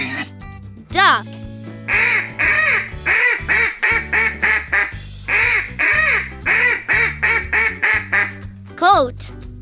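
A duck quacks in a rapid series of short, nasal calls with brief gaps between them, loud and close, over a steady music bed, with a short spoken word at the start and end.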